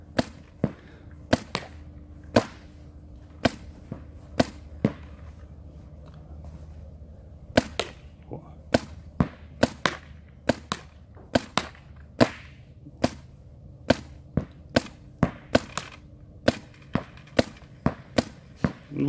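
Sharp, snappy paintball marker shots fire one after another in irregular bursts, loud and close, with short gaps between groups, during sport paintball training.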